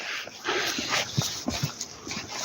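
An Arctic dog whimpers and snuffles close by in a wooded setting, giving soft irregular whines and breathy sounds over faint background hiss.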